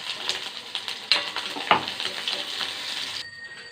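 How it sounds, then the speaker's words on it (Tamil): Ginger and garlic fry in hot oil with pepper while a spoon stirs them, giving a busy, close sizzle with scattered clinks and scrapes before it cuts off abruptly near the end. "அடுத்து இஞ்சி பூண்டு இது ரெண்டுத்தையும் எண்ணெயில் நல்லா வறுத்து எடுத்துக்கணும்."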